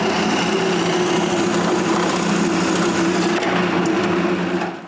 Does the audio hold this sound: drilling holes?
yes